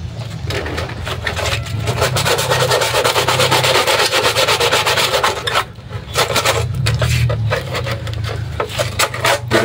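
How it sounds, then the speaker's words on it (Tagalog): Sandpaper, 120 grit, rubs steadily over the plastic fairing of a Yamaha Mio motorcycle during repair, a close, continuous rasping scrub with a brief pause midway before the strokes resume. "Kailangan lihain mo na para sigurado."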